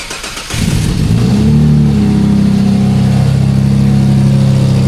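A Toyota Land Cruiser 79 Series engine with a custom exhaust starts up and settles into a deep, steady idle with a throaty exhaust rumble, loud and close, no voices.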